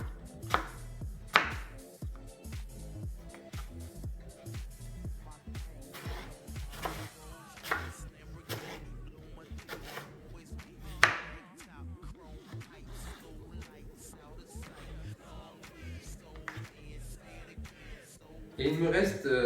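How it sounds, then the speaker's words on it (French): A knife cuts an apple into sticks on a cutting board, a run of crisp, irregular chopping taps close by, with a person talking over the cutting. "Pour ma pomme, je vais la couper en bâtonnets."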